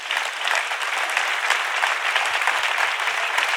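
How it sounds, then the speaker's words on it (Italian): A live studio audience at a comedy podcast taping bursts into steady, dense applause that holds at full strength throughout, a continuous wash of many hands clapping with no voices over it. "E allora forse al sindaco Carlo Verdone vi chiedo un altro applauso."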